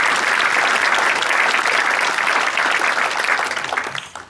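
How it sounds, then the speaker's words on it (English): An audience at a St. Louis fundraiser auction gives sustained, full applause, a dense roar of many hands that holds evenly and then tapers off at the end. "let's give them a little applause"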